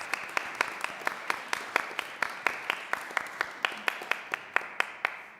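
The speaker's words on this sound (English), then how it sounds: "we'll clap first." Sparse, evenly spaced claps from a small group at a city council formal meeting, steady rhythmic hand strikes at moderate distance with little else around them.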